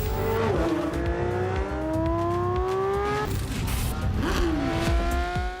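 A high-revving naturally aspirated 2022 Porsche 911 GT3 engine climbs toward 9,000 rpm and shifts through gears, loud and continuous, with rising harmonic whine and a brief dip between shifts.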